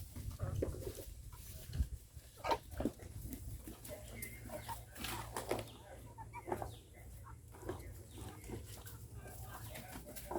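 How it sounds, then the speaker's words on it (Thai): Chickens jostle to eat bananas, making scattered soft clucks and short calls at close to moderate range over a faint background murmur. "ไก่ก็มาแย่งกินกล้วยนะครับผม"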